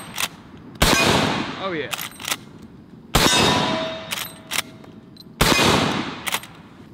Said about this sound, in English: This is a reduced pressure load, so we'll start out with these and then shoot some of the hotter stuff